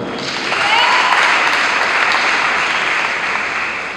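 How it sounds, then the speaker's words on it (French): Loud sustained applause from a congregation at a church celebration, a dense even wash of clapping that swells after the first half-second and holds steady throughout. "Merci pour tous vos applaudissements."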